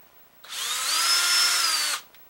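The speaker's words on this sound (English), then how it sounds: "I only like to pre-drill it because it's easier when it's off" A power drill pre-drills a hole in a wooden-sounding toy blaster stock, a single close, loud whirring burst of about a second and a half that rises slightly in pitch, with nothing else around it.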